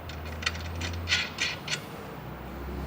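A hand ratchet tightens a lock nut over a washer on 3/8 inch truck bed rack hardware, giving a few quick light clicks over a steady low hum, close up.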